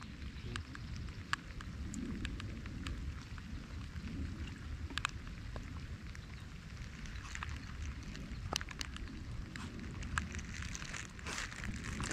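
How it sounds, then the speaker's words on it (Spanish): Rain falling during a saltwater fishing trip for bluefish and striped bass, a soft, constant patter with scattered drop taps, faint over low rumbling wind and boat noise. "Y la lluvia no nos quiere dejar tranquilos"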